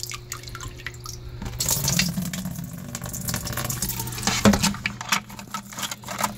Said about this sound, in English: you can see by how slowly the water is draining through here